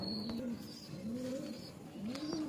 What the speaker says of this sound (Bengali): এই পায়রা আর একটা কোয়ালিটি ভালো, হুম, শীতও ওড়ে, গরমও ওড়ে।